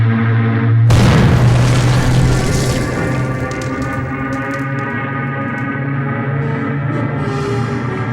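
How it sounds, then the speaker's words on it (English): The planet Nimbud 3 blown up by a bomb: a sudden loud blast hits after a low droning hum, then a long rumbling roar slowly fades beneath the continuing tone, with faint crackles trailing off. "Sir, Nimbud 3 has exploded"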